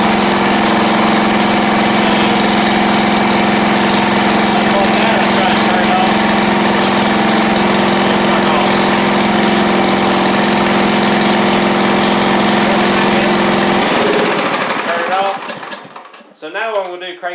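A John Deere LX176 lawn tractor engine with a charging fault runs at a loud, steady idle with a firm low hum, then cuts out and sputters to a stop near the end.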